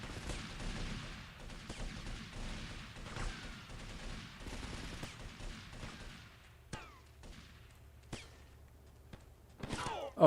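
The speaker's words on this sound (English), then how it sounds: "I can hear so much gunfire," Video game gunfire in GTA Vice City Remastered: dense overlapping bursts of shots and thuds crowd the first six seconds, then thin out into a few sharp isolated cracks, loud and close.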